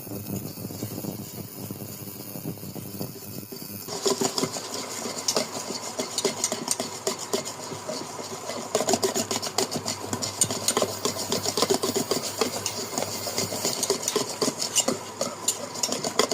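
Eggs being stirred in a pan for egg halwa, a continuous scraping and clinking of a utensil against the pan over a steady background roar that gets louder after a few seconds.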